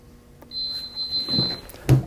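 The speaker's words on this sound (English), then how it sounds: "It will count down to 0 and beep when it's completed." A heat press machine gives one long steady electronic beep at the end of its countdown, followed by a couple of soft clunks and a louder thump as it is handled.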